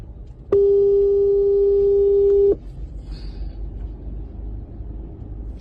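A steady single-pitch telephone call tone sounds loud and clear for about two seconds after a number is dialed, then cuts off, leaving a low background rumble.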